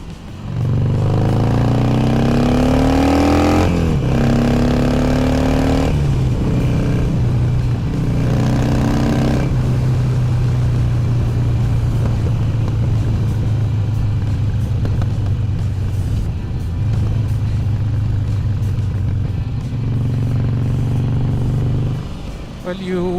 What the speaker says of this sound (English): That's the normal sound of the exhaust.